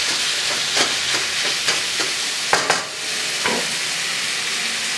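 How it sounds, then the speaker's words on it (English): Orange chicken lo mein stir-frying in a very hot pan, searing: a loud, constant hiss and sizzle close to the mic, with occasional scraping tosses and clinks of a utensil, no one speaking. "the key thing to doing a stir fry is getting it hot, or your pan super hot, and searing everything"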